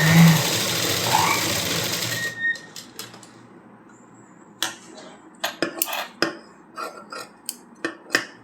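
A sewing machine stitches a blouse hook patti, running in a steady close whir for about two seconds, then giving way to quiet with scattered clicks and handling knocks.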